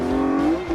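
A Chevrolet Trailblazer drift car revs with a sustained high engine tone and faint tire squeal during a drift, loud and close in a brief burst.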